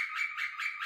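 A young pet parrot gives a brief, shrill squawk with a pulsing, rough edge, close and loud and heard alone for under a second.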